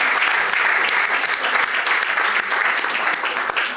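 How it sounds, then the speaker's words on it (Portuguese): An audience at an evening gathering marking the 49th anniversary of the 25th of April bursts into dense, steady applause, many hands clapping close together without pause. "Uma salva de palmas, não merece?"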